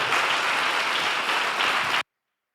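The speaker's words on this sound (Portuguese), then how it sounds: "Vamos dar uma salva de palmas para Ele, irmãos?" A church congregation applauds at a Christmas service: about two seconds of dense, even clapping that cuts off abruptly into silence.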